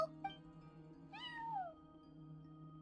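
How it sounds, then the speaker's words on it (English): A cat meows once inside a video game, a single rising-then-falling mew set against a steady soft musical background, with a faint short chirp just before it. "No one except for a cat watching over the front desk"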